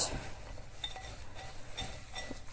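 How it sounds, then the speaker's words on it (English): A spoon stirs a turmeric granola mixture in a bowl, producing faint clinks and soft scraping taps over quiet room noise. "So now we're just going to stir that round."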